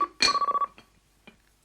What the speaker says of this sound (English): Your phone's ringing, Polly.